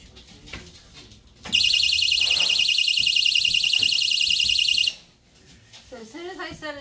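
A window and door alarm from Amazon, newly installed on a window, sounds a loud, piercing warble for about three seconds. The pulsing tone stops abruptly, and a voice speaks briefly before and after it.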